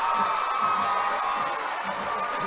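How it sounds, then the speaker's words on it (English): A huge home crowd roars and cheers continuously at a high school football game in Arkadelphia after a last-play two-point conversion wins it, with shouts and whoops in a loud, steady wash of noise. "Listen to the crowd. Huge Arkadelphia crowd here"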